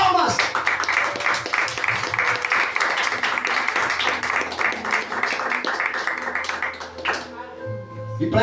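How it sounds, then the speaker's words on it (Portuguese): A church congregation at a Baptist service claps together in a dense, loud, steady round of applause lasting several seconds. It tapers off sharply near the end as a voice begins to speak. "Será que o nosso Senhor Jesus merece uma salva de palmas?"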